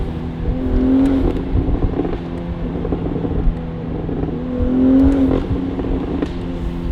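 A BMW Z4 fitted with a Valvetronic Designs exhaust and stock downpipes revs while driving, its engine note rising and falling twice over a steady, deep exhaust drone and wind noise.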